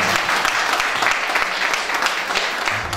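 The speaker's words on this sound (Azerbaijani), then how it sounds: "Gəl bir Əkbər müəllim alqışlayaq." An audience at a book presentation supporting martyrs' families claps steadily and fairly loudly for a martyr's father, dense even applause with no talk over it.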